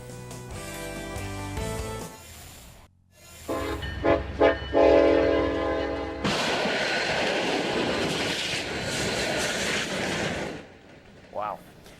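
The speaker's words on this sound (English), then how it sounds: "an 18-wheeler is completely destroyed by an oncoming freight train after it gets stuck on the tracks" A freight train sounds its horn in long loud blasts, then rumbles and clatters past in a broad roar at a rail crossing, with a brief tone near the end.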